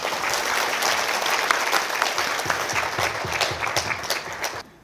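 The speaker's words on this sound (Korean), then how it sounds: "박수 한번 주세요" An audience at a lecture show bursts into sustained, dense applause that holds steady for several seconds, then cuts off abruptly at the end, with no talking over it.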